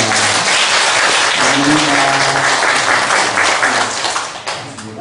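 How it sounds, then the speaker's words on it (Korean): A church congregation clapping to welcome a guest, sustained applause that carries on loudly before tapering off near the end. "아마 박수로 환영하겠습니다"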